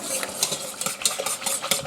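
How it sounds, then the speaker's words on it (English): A slurry is stirred into a hot gravy mixture for chuck roast with shallot gravy: quick, rhythmic scraping strokes of a utensil through thickening liquid in a pan, close and steady, without talk. "Stirring that, we're going to then let this begin to thicken."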